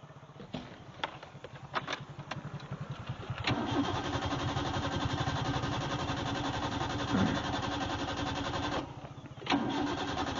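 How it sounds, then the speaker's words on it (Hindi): A petrol car filled with diesel cranks repeatedly: the starter whirs in a rapid rhythmic chug, pauses, then cranks again in a long sustained stretch without catching, close and moderately loud with no talk. "तो अब हम लोग देखेंगे ये गाड़ी स्टार्ट होता है या नहीं।"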